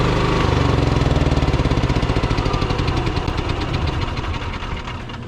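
A Bounder Class A motorhome engine idles after the load comes off, a loud, close, rough pulsing rumble that keeps an even beat and slowly fades as it settles down.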